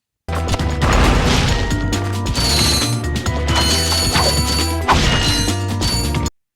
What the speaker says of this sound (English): break open a few boxes, and get some extra bolts